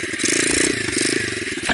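A motorcycle engine revs hard as the rider pops the clutch for a wheelie, a loud, close, rough mechanical roar with a clattering pulse, brief and continuous.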